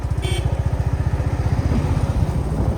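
A motorcycle engine thrums with a rapid, steady pulsing beat close by on a mountain road in Kangra near Dharamshala, loud and even throughout with no talk.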